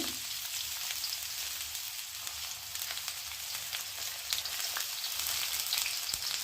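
Spring onions frying in groundnut oil, a steady broad sizzle that runs without a break from start to finish, with small crackles and the odd clink of a utensil partway through. No voices.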